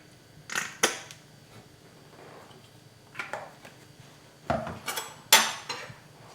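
Mayonnaise and spicy sauce stirred together in a bowl for a banh mi sandwich filling, with sharp clinks and scrapes of a utensil against the dish in short bursts, near and otherwise quiet.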